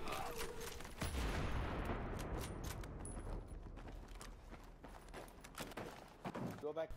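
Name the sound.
L96 bolt-action rifle hipfire shots, video game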